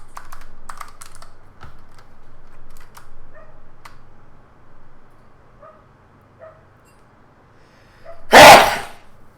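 One sharp, loud human sneeze bursts out near the end, preceded by light scattered computer keyboard typing and faint background clicks in a quiet room.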